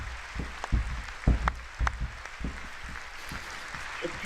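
Scattered applause from the audience at a State of the Union address, irregular claps spread over a few seconds, fairly distant and muted against a noisy background.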